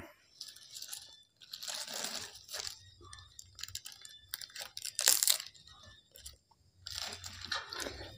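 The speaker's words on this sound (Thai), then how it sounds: "มาครับมามากินปลาเผาแซ่บๆน้ำกันเนาะครับ" Grilled tilapia is eaten with fresh vegetables such as lettuce and basil, giving close, crunchy chewing and biting in bursts separated by short quiet pauses.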